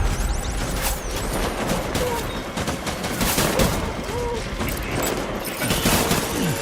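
Gunfire in a video game rings out as a loud, continuous fusillade of overlapping shots and bangs that runs without a break.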